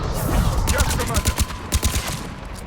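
Rapid bursts of gunfire crack and thud amid sustained battle noise in Mass Effect 3, with heavier mortar-like impacts punctuating a dense, loud combat din and brief radio-style voices underneath.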